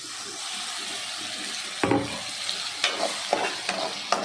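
Ground tomato paste sautéing for Tamil kara kuzhambu, a close steady sizzle with a spoon scraping the pan in several spaced strokes.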